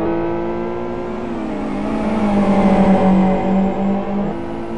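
GT1 race cars from the 2013 GT1 World Series roar through a chicane, a loud sustained engine drone with rising revs and a pass swelling in the middle, no talk over it.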